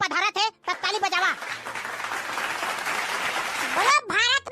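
Village children and onlookers clap for their headman at an Independence Day school gathering, a burst of steady applause between stretches of loud talk from a speaker before and after.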